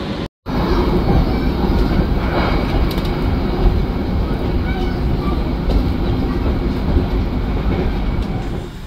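Gunung Jati passenger train pulling out of Cikampek station, heard from inside as a steady loud rumble with rail clatter and occasional creaks, muffled voices in the background.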